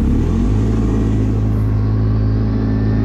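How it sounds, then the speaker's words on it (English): A 2020 CFmoto Cforce 450 ATV (500) accelerates hard on an offroad 0 to 60 speed run, a loud steady engine drone climbing in pitch from a low start and holding a strained, sustained note with no voices. "it accelerates pretty good mid-range, and then of course when it reaches right about 50, about right now, it kind of starts to stall off"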